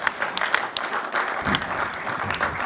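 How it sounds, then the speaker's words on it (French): Applause rises from an audience at an industry conference, a continuous spread of clapping with a few sharper individual claps standing out, moderately loud and even. "Merci Hervé, qu'on peut applaudir pour cette synthèse."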